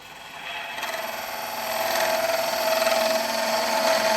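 A woodturning tool hollows the end grain of a spinning log on a lathe. It gives a continuous scraping, rasping hiss that builds slightly and holds steady at close range, with no talking.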